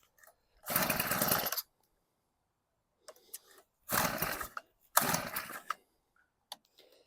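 A small Honda WX-10 water transfer pump engine on half choke fires in three loud, rough bursts of about a second each, cutting out to near silence between them, with faint clicks in the gaps.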